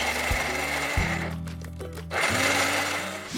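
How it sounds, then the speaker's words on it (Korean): A kitchen blender grinds boiled garlic with raw garlic, olive oil and lemon juice into a thick cream, a loud steady motor whir that surges, dips briefly mid-run, then roars back up, with no talking over it. "네, 그럼 이제 믹서기에 갈아주도록 할게요."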